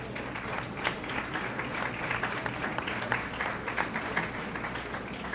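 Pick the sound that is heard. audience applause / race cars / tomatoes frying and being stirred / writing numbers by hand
audience applause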